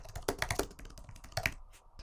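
Close, quick tapping of keys on a computer keyboard as a file name is typed, a short irregular burst of clicks with one louder keystroke near the end, no voices.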